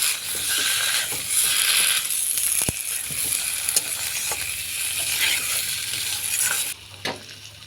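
Potatoes fry with spices in a pan for a spicy pabda fish curry. A loud, continuous sizzle carries scraping stirs and a sharp utensil clack, then the sizzle drops suddenly near the end.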